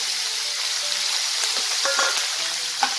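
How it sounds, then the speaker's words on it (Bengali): Medium-sized tangra fish rubbed with salt and turmeric fry in hot mustard oil, producing a loud, dense, continuous sizzle close up, with a few faint spatters and utensil touches and no speech. "এবার আমি নুন হলুদ মাখিয়ে রাখা ট্যাংরা মাছগুলোকে ভেজে নেব।"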